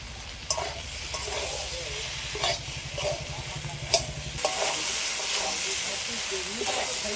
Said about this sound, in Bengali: এবার সব একসাথে ভালো করে কষিয়ে নেব